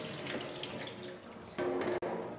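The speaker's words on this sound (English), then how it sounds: "we take that litre of water and we'll sieve it through a 20 micron sieve" Water poured gently through a 20 micron sieve while soil samples are processed for nematode counts, a steady splashing pour that grows louder and fuller partway through with a brief break near the end.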